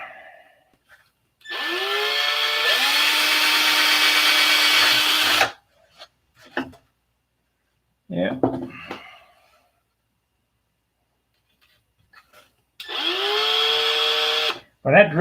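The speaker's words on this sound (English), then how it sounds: "so now we got to drill some holes." Power drill boring holes with a warped, bent bit: two sustained whining bursts of several seconds each, close and loud, separated by quiet handling clatter and a brief spoken word.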